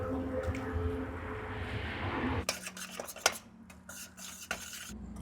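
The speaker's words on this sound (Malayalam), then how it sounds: "ഇപ്പം മുട്ടയും കൂടി ഇട്ട് കൊടുക്കാം." Eggs stirred into onion and tomato in a pan, heard as a low sizzle that gives way to a burst of clinking spoon-on-pan scrapes and taps, close and uneven, without talking.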